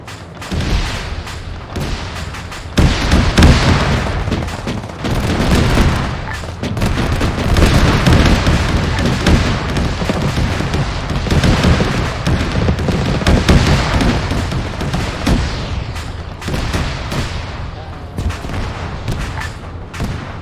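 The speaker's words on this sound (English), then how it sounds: "Alright, I heard that explosion from here." Explosions and gunfire in a military video game battle, armor fighting in Afghanistan against Iran: a loud, dense, continuous barrage of booms and crackling bursts with no let-up, no voices.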